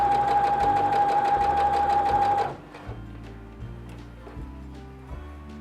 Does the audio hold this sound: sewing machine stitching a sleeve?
yes